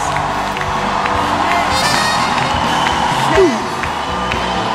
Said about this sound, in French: Je veux des acclamations pour mon Jésus.